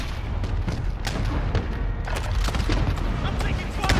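Video game gunfire pops in repeated sharp, booming shots layered over a constant loud background, while a person talks over the shooting.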